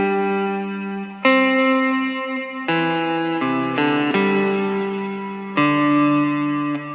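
Electric guitar working through a worship song phrase and its closing tag with ambient reverb, a handful of strummed chords changing at a slow, even pace, each one sustaining and washing into the next, played alone without speech.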